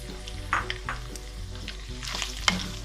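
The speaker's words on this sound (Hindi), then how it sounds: "ये मैंने कढ़ाई में ऑयल डाल के रखा हुआ है। अब मैं इसके ऊपर इसमें ये चिकन डाल रही हूँ।" Small pieces of boiled chicken frying in hot oil in a wok, with a steady close sizzle and sharp scraping stirs of a utensil against the pan, and no voices.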